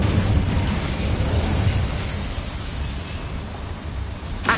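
An Incendio fire spell is cast in Hogwarts Legacy, a loud roaring whoosh of flame with a deep rumbling burst that sustains evenly and ends in a brief sharp flare.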